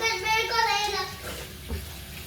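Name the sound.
water running while clothes are being washed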